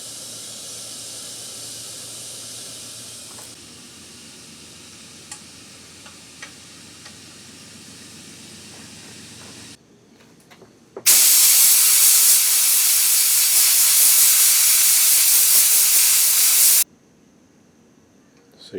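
A powder coating spray gun coats internal door parts from a 1970-81 Camaro, first a low steady hiss, then a loud, even spray blast of about six seconds that cuts off abruptly.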